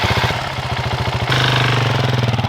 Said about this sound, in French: petit coup de démarreur